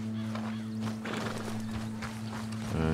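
Hoofbeats of an Appaloosa or Thoroughbred horse in the Western video game Red Dead Redemption 2, soft clip-clop steps over a steady low game hum and ambient music, fairly quiet and continuous.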